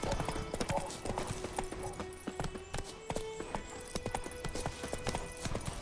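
Roach, a horse in The Witcher 3 game, gallops with a steady, fast clip-clop of hooves close by, under a light musical tone and faint talk.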